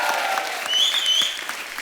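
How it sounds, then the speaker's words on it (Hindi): A studio audience at a TV comedy show claps for actress Alia in a steady burst of applause, close and full throughout, with a faint voice over it. "आप सब एक बार आलिया के लिए जोरदार तालियां"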